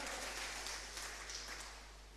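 A church congregation applauds with a faint, steady patter of many hands clapping, heard at a distance with no talk over it.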